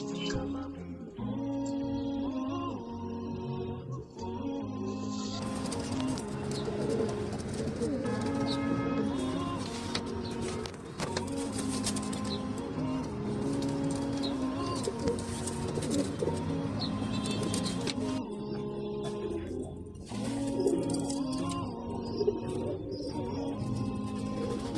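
Domestic Egyptian giya pigeons cooing in a loft, with layered, overlapping coos that run steadily and fairly close throughout, with no talking.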